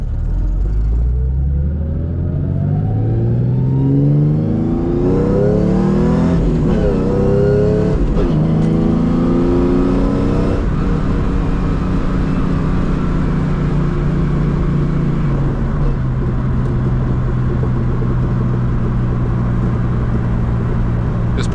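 A New Edge Ford Mustang V6 autocross car pulling hard under load, loud close engine roar rising through the gears with pitch climbing and dropping at shifts, then settling into a steady heavy drone.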